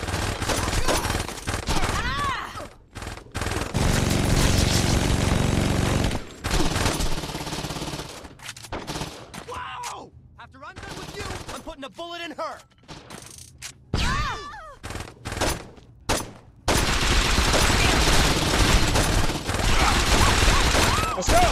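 Bursts of automatic and single gunfire from Saints Row 2 crackle loudly and densely, pausing briefly before resuming in long sustained volleys, with chaotic game sound throughout and no speech.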